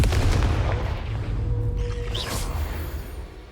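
Confringo fire blast spell in Hogwarts Legacy, a loud close explosive boom with gunfire-like crackle and a brief whoosh, rumbling throughout and easing slightly at the end.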